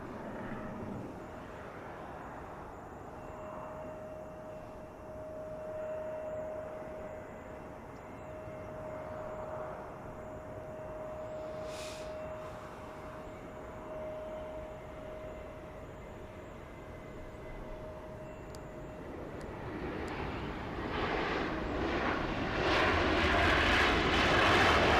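Airliner arriving at Los Angeles airport from Minneapolis, a distant engine drone with a steady whine that grows louder and brighter toward the end as it nears.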